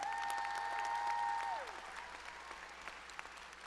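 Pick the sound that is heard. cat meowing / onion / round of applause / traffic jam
round of applause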